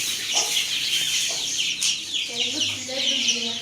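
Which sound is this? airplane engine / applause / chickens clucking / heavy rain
chickens clucking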